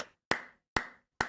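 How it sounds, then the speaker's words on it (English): Three slow, evenly spaced hand claps, each a sharp crack with a short room decay and silence between. "Slow clap."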